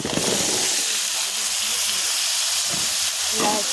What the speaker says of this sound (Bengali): এবার এখানে দিয়ে দেবো আমি কেটে ধুয়ে রেখেছি লাউটা